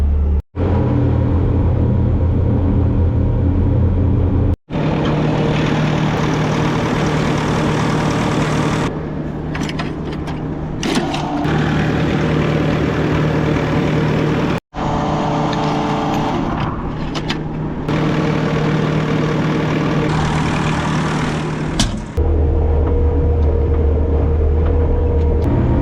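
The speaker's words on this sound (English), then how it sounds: "I'm gonna take the skid steer over there, put some fuel in it at Jim's" A skid steer engine running steadily while being driven out to a field, a loud continuous diesel rumble with a few abrupt cuts and shifts in tone, no talking.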